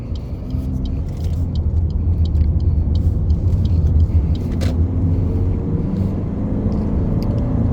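A car turning onto an Australian road gives a steady, fairly loud low rumble of engine and tyres that rises slightly midway, heard from inside the vehicle without speech.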